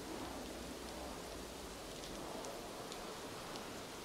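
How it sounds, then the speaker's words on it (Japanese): Light rain in the video game Ada's Song, a steady, even patter of drops with faint scattered ticks throughout, soft and continuous with no voices. "小雨になったな。"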